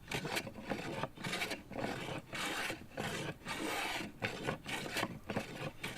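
A Stanley hand plane shaves a wooden electric guitar body blank in steady repeated strokes, each a close, loud rasping swish separated by brief pauses.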